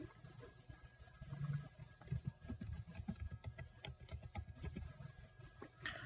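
A password typed on a computer keyboard, with a steady patter of soft key clicks in an uneven rhythm, close and fairly quiet, with no talking.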